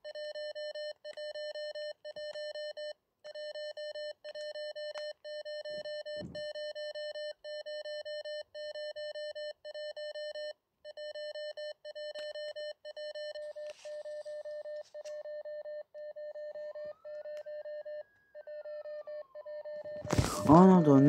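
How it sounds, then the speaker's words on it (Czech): An electronic doorbell in a video game beeps in a steady, rapid repeating pattern, with short gaps between bursts, and ends with a sudden loud noise. "to pípání zvonku"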